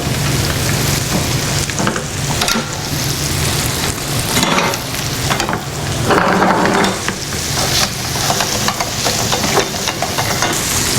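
Fish fries on a camp stove with a loud, continuous crackling sizzle that swells and fades in surges, with scraping stirs mixed in.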